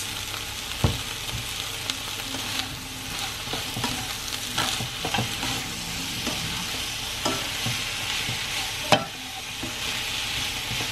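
Potatoes fry in a pan with soy sauce and chip seasoning, a steady broadband sizzle running throughout with occasional sharp clicks and scrapes of stirring, close and fairly loud, no talking.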